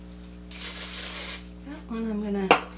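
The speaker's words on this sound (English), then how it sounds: "I'm gonna hairspray right there." Hairspray hisses from an aerosol can in one close, steady burst lasting about a second, followed by a short spoken phrase.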